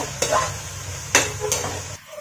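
Tomatoes sautéing in a pan for Maguindanaon goat meat sinina, a steady close sizzle under a few brief scraping stirs, no talking.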